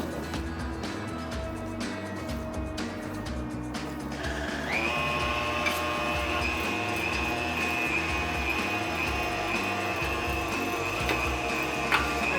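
A motorized meat grinder runs as rockfish is ground for burger patties, a steady mechanical whir with clicking that shifts to a higher, louder hum partway through and continues without speech.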